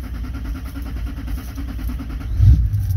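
A 2003 LB7 Duramax diesel engine runs steadily nearby with a low, rough rumble, then swells briefly toward full throttle before sagging back as if starting to stall.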